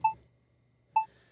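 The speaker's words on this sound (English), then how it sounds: "that's the sound you will hear as it counts down from 3, 2, 1 to start the recording." Two short, clean electronic beeps from the Premiere Pro recording countdown, about a second apart, identical in pitch, against near silence.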